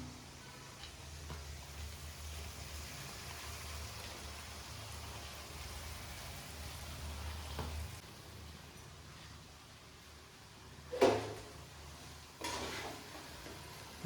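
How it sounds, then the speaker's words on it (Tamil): Sevai noodles being tossed and mixed with salt and spices in a pan after tempering, a soft steady scraping and rustling with faint sizzle, fairly quiet and continuous, with a couple of sharper knocks near the end. "நல்லா உப்பு காரம் எல்லாம் கலக்கிற மாதிரி நல்லா கலந்துக்கலாம்."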